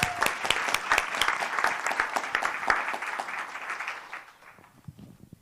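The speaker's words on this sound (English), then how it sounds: "Let's give her a round of applause" An audience at a dental talent show gives a speaker a round of applause: brisk, crisp clapping from a modest crowd that holds steady, then thins out and fades to a few scattered claps.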